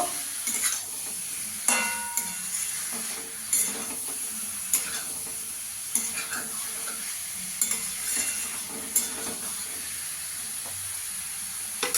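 Cauliflower, potato and egg being stir-fried together in a pan, a continuous sizzle and hiss broken by repeated sharp clacks and scrapes of a metal spatula against the pan, no talking.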